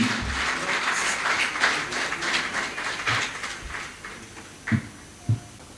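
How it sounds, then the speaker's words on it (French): Warm applause from an awards-ceremony audience fills most of the stretch, a dense steady clatter of many hands that gradually thins and fades, with a couple of isolated thumps near the end. "Des applaudissements chaleureux pour le recevoir à ce pupitre."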